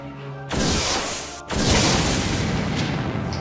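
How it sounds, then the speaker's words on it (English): Two loud pistol gunshots in the Dies irae visual novel: a sharp broadband blast, a brief gap, then a second deafening explosive shot with a long roaring tail, both close and alone. "The two bullets launched with a deafening explosion, decimating the regions of the two, ravaging them to the core."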